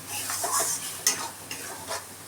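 Spice paste with added tomato paste being stirred and fried in a pan for a spiced egg gravy, a close, soft sizzle with scraping spatula strokes and a few light clinks.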